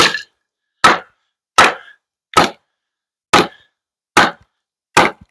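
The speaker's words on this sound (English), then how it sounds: "It's splitting the log" A Tops knife is batoned through a wooden log in seven sharp, evenly spaced cracking strikes, each a loud close knock that stops dead before the next.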